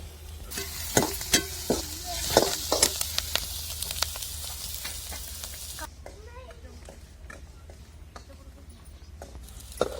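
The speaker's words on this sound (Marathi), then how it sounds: "एक साइडला कांदा करून घ्यायचा आपल्याला आणि त्याच्यामध्ये तेल टाकून खोबरं पण तळून घ्यायचं" Onion and thin coconut pieces frying in oil, a steady sizzle with sharp stirring clacks at first that then settle into a quieter, softer fry.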